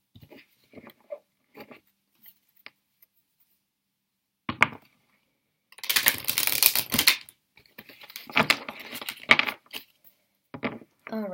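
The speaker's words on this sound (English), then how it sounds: "I'm going to shuffle the cards." Tarot cards are shuffled in short, crisp bursts of riffling and flicking, close and clear, with quiet taps and card handling before and between the louder shuffles.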